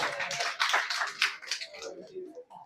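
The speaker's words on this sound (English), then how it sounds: "Clap for yourselves." A group of young people at a school event claps together, a dense run of overlapping hand claps that fades out near the end, with some voices underneath.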